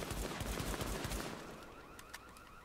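Rapid pistol shots from a modified 1911 handgun in Tom Clancy's The Division, a fast burst of sharp reports that fades into ringing echo and scattered casing clinks.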